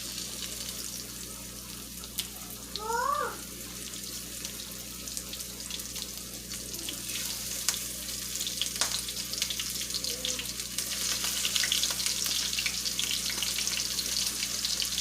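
Parmesan crusted pork chops fry in a pan with a steady, close broadband sizzle that grows slightly louder toward the end, with a few brief high chirps early on and no talking.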